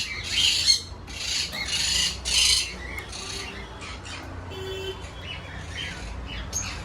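Cockatiels in a breeding box giving loud harsh squawks in several close bursts early on, followed by softer chirps and scattered calls.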